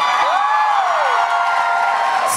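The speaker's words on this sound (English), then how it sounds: "Round of applause for Superstore." A convention panel audience cheers and whoops together, a dense, loud burst of crowd noise filling the hall without pause.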